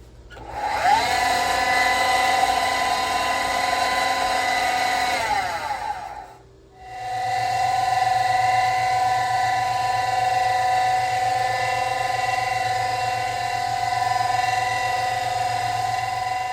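A Sanford surface grinder runs with a steady, loud, high-pitched motor whine as it makes its first sparks. The whine drops away briefly near the middle, then spins back up and holds steady. No one speaks.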